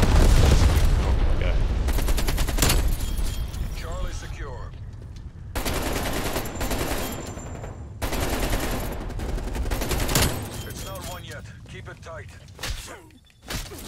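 Rapid automatic gunfire from a multiplayer match of the shooter game Black Ops Cold War, loud dense bursts with brief pauses between them, mixed with game effects and a player talking over it.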